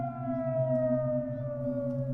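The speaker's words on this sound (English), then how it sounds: "we hear the sirens go off" A civil defense siren sounding a peninsula evacuation wails on one sustained, slowly falling tone, heard from a distance with no other sounds over it.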